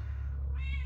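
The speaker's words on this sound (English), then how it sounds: "Sorry about the cat meowing in the video." A cat lets out a single short meow that rises near the end, heard close and clear over a constant low electrical hum.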